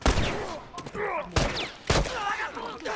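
Rapid bursts of gunfire from a shooting video game, several loud volleys with sharp onsets spread across the moment, mixed with game effects and occasional voices.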